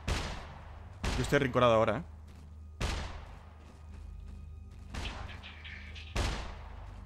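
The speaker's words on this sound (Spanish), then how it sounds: "Está disparando al tejado, están en el tejado." Loud gunshots ring out in the SCUM video game as a player fires at a rooftop, four or five sharp reports spaced a second or two apart, each with a ringing tail, with someone talking between them.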